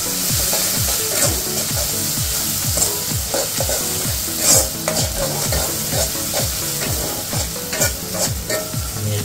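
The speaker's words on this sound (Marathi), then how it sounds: "जरा थोडं परतून घ्यायचं आहे." Tomatoes are sautéed in a pan for dhaba-style dal tadka, with a constant loud sizzle and a steady, rhythmic series of spatula strokes scraping the pan, and no voices.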